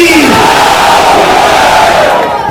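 Large rally crowd in Mumbra chanting the Nara-e-Takbir slogan together, a loud, dense roar of many voices with a rising shout at the start, sustained and close throughout.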